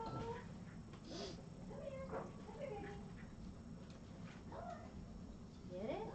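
Several house cats meow in short, rising calls scattered across a steady background hum, while people talk nearby indoors.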